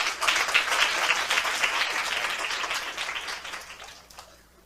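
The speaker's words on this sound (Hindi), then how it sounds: "आइए बच्चों के लिए ताली बजाइए।" A church congregation applauds for the children, a loud burst of clapping that fills the room and then gradually fades away over a few seconds.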